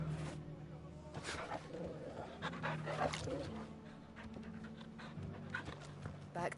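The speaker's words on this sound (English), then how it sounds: "Wait up, I gotta pet my dog." A dog pants in rhythmic bursts in the video game Final Fantasy XVI, close and moderately loud over a dense bed of game ambience and music.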